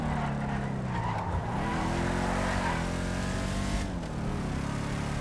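The Declasse Tulip muscle car in Grand Theft Auto 5 revs hard in repeated rising and falling sweeps, with tire squeal and skidding mixed into the loud, continuous engine drone.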